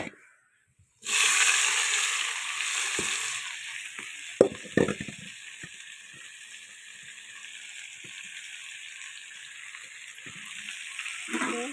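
Vegetables hit a hot pan of lightly reddened fried onions with a sudden loud sizzle that settles into steady frying hiss, with a few clattering stirs and scrapes along the way.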